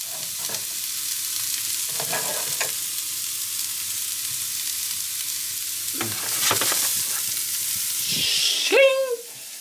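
Onions and mushrooms sizzle and fry steadily in a pan for an omelette, with bursts of stirring and scraping, and a brief high squeak near the end.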